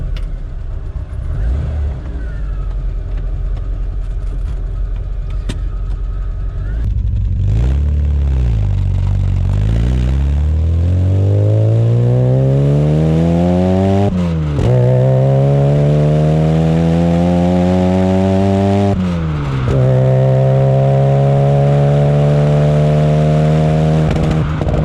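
Supercharged 998cc Mini, nicknamed Ruby, revving hard from idle and pulling up through the gears while driving, loud and close with rising engine whine, several brief dips at gear changes, and a person speaking briefly at the start.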